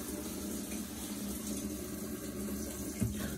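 Hot water pours steadily into a new Whirlpool washer as its fill valve is tested in diagnostics mode, a continuous rushing flow with low hum and one brief knock near the end.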